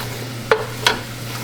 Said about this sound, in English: we're still working the roux, just kind of constantly stirring